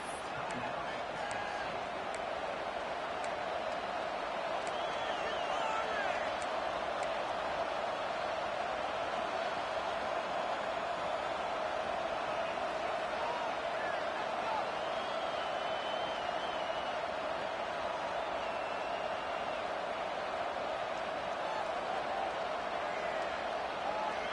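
A steady roar of a large stadium crowd in a college football video game, Tennessee at Florida, fills the background, constant and distant-sounding, with faint bursts of cheering and no clear talk.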